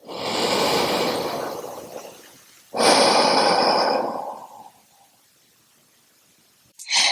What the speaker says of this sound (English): And cleansing breath here.